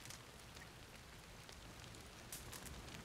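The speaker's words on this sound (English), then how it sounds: "You're afraid of a little bit of rainfall?" Steady in-game rainfall from Red Dead Redemption patters across the whole stretch as a dense, even hiss of drops on surfaces, fairly quiet and with no talk over it.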